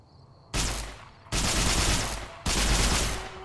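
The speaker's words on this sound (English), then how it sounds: "It's the Laser RCW. It is a laser Tommy gun." A Laser RCW, a rapid-fire laser gun in the video game Fallout: New Vegas, fires three sustained bursts of fast buzzing shots. Each burst hits loud and near and fades slightly, with short gaps between, and no voices are heard.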